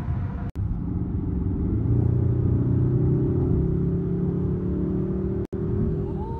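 A steady, deep artificial engine-like drone from the speakers hums continuously inside a Hyundai Sonata cabin in sport mode, smooth and sustained with no talking.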